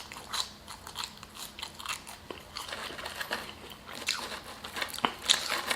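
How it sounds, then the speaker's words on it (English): A curly fry dipped in Wingstop ranch is bitten and chewed up close, giving several crisp crunches followed by softer chewing, with no talking. "Let's try a curly fry in the Wingstop ranch."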